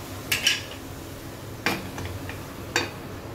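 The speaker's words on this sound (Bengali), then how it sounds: "একটু ঢেকে দেব, প্রেসার কুকারের ঢাকনাটা দিয়েই ঢেকে দেব।" A pressure cooker lid is set over a pan of marinated chicken, giving three short, close metallic clinks spaced apart against a quiet kitchen background.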